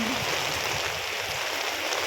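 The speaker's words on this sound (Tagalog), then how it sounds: "Malakas po ang ulan." Torrential rain from a typhoon battering the outdoors in Taiwan, a loud continuous wash of water like a rushing stream, unbroken and without speech.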